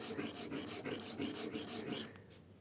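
A router plane blade being sharpened on a medium 600-800 grit stone: close, rhythmic rasping strokes, about nine even back-and-forth passes, then a brief light scrape as it stops.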